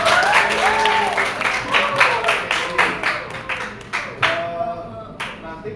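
A school class claps for several seconds, dense close applause with scattered individual claps trailing off, while voices speak over it.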